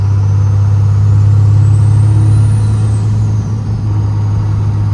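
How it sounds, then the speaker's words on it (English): A 24-valve Cummins diesel truck with an S400 turbo drones loudly and steadily under way, a strong low rumble with a thin rising turbo whistle above it, and no talking. "It has all the turbo noises."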